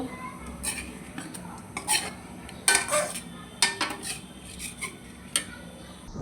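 Boiled flat beans lifted out of a pan with a spoon: close, intermittent clinks and scrapes of metal against the pan, with a few sharper knocks spread across the stretch.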